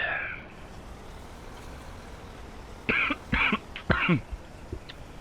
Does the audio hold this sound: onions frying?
no